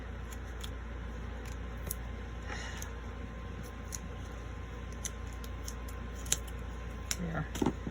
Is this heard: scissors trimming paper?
yes